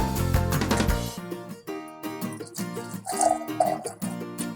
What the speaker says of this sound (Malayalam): ഇനി നമുക്ക് അരിച്ചെടുക്കാം.